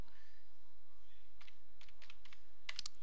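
Someone types a search word on a computer keyboard, producing a few quick, light clusters of key clicks close by over a quiet room hiss.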